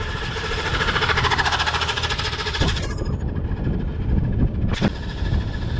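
A scooter with a rattling engine passes close by, its loud, rough, pulsing drone cutting off sharply midway. A brief rising whine follows over the quieter background.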